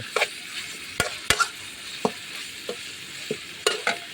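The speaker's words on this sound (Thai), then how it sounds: "ผมผัดกระเพราสูตรนี้ผมมาใส่น้ำมันหอยนะครับ" Minced pork stir-fried with holy basil and oyster sauce in a pan: soft sizzling under repeated sharp scrapes and clacks of a spatula, fairly quiet, with no talking.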